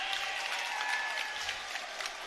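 Crowd at a high school varsity basketball game in Brooklyn roars in a dense, sustained wash of cheering and applause that holds steady throughout, with no clear speech over it.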